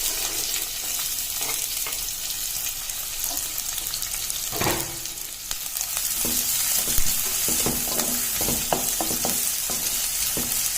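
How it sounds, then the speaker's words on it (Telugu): Onions fry in hot oil for a country chicken curry, giving a continuous close sizzle with occasional scraping stir strokes from a spoon in the pan. "ఈ ఆనియన్స్ కొంచెం దూరగా వేయించుకోవాలండి"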